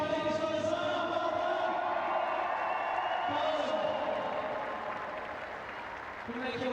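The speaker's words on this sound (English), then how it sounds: "Big cheer for our ladies on the side." A big crowd at Twickenham stadium cheers and applauds a women's team during an invitational rugby day, a steady, dense roar of clapping and voices that runs throughout and eases slightly near the end.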